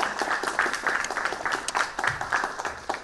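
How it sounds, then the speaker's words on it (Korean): An awards-ceremony audience applauds the grand-prize winner of a UCC video contest, a brisk patter of many hands with distinct individual claps, moderately loud and continuous. "여러분 큰 박수 부탁드리겠습니다."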